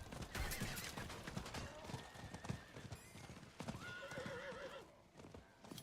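Horse hooves clip-clopping in the video game Diablo IV, a rapid, steady galloping patter close up, with a brief whinny and game effects layered over it.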